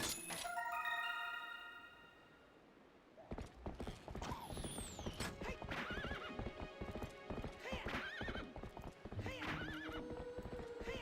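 Rapid, steady hoofbeats of a galloping horse pound close by in The Legend of Zelda: Twilight Princess, mixed with creaking tack and clinking metal, after a brief musical chime at the start.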